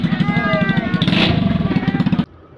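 A motorcycle engine revs loudly up close with a rapid pulsing rattle during a New Year celebration, then cuts off abruptly.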